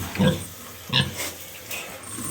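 Two short grunts from a sow close by, separated by a pause, with faint background noise.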